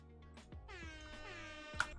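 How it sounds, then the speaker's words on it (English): A soundboard plays an air horn sound effect as a faint, brief honk of blaring tones, quiet and alone. "air horn"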